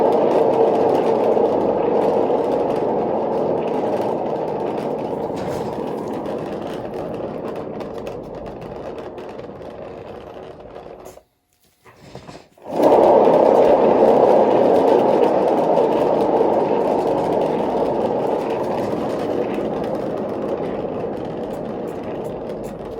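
A spinner turns an acrylic paint pour, giving a steady, loud mechanical whir. It cuts out briefly partway through, then resumes at full strength.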